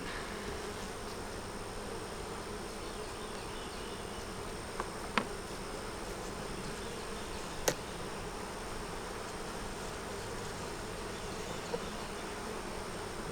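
Bees hum in a steady, faint drone close by a hive, with a few sharp clicks and taps breaking through now and then.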